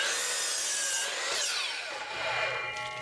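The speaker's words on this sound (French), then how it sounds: "Je vais vous faire des coupes quand même assez précises, là." A saw cuts through 2x6 lumber for a field gate, giving rough, rasping strokes of wood being cut close up, with a brief whining pitch sweep partway through.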